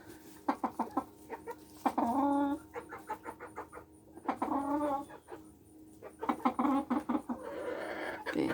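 Chickens clucking nearby in repeated short bursts of cackles and clucks, with quieter pauses between the outbursts.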